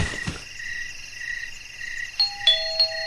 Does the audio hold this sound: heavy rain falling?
no